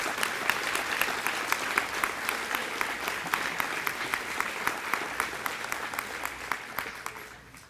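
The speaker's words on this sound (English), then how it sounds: "Please give them another round of applause." Sustained audience applause fills a school district recognition banquet hall, steady and dense with a few sharper nearby claps, honoring 25-year award winners and tapering off at the end.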